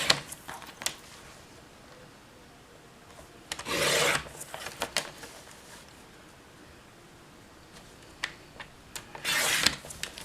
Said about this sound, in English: we're going to cut in 2-inch wide strips